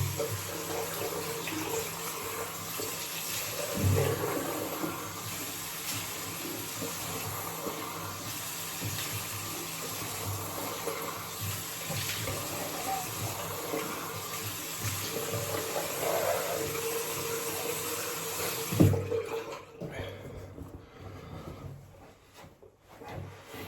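Tap water runs steadily into a sink during face washing at a shave, a continuous close splashing hiss with a couple of brief knocks, cutting off near the end to near quiet.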